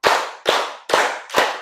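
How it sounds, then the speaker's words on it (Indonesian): Four sharp, evenly spaced hand claps from children clapping on a count in an elementary classroom, each a loud crisp slap with a short decaying tail. "1, 2, 3, tepuk 1, tepuk 2, tepuk 3"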